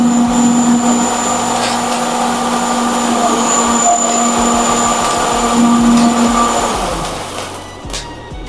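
Cold spark stage machines fire one after another from left to right, giving a loud continuous hissing roar with steady tones that fades near the end, while a voice talks over it.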